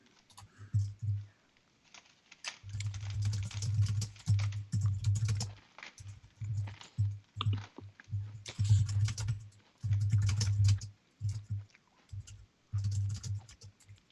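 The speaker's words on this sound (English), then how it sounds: "Typing wildly." Loud, rapid computer keyboard typing comes in bursts with short pauses between them, close and clattery, with no talking.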